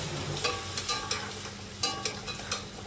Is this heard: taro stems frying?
yes